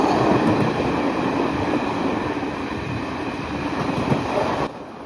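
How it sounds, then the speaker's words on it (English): Metropolitan heritage train on the London Underground running at speed past Chalfont and Latimer, a steady loud rumble of wheels and carriage noise throughout, easing slightly near the end, with no voices. "The train passes some stations such as Chalfont and Latimer."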